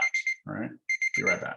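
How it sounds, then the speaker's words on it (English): A household alarm beeps in short, loud, close bursts, sounding in pairs and triplets, with someone speaking briefly between the beeps. "Oh, that's the alarm."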